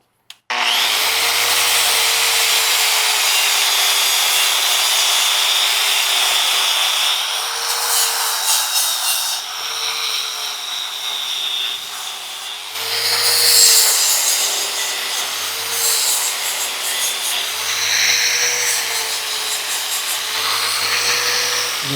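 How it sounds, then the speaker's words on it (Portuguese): A new flap disc on an angle grinder working a stainless steel weld, giving a continuous, loud abrasive grinding hiss with a steady motor whine that shifts slightly in pitch as pressure on the workpiece changes. "Flap novinho, come bem, fica muito bom."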